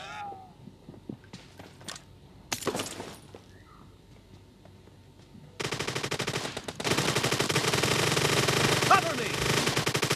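An UZI submachine gun fires in a video game warehouse match: scattered clicks and short single shots at first, then dense, loud rapid-fire bursts rattling continuously through the second half.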